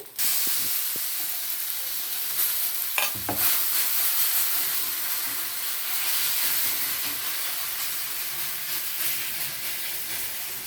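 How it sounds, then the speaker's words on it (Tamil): A flipped wheat rava adai cooks in a pan, giving off a steady, close sizzle and hiss of frying with a brief scrape partway through; no one speaks. "இப்போ திருப்பி போட்டு ஒரு 2 நிமிஷம் வேக விட்டுட்டு"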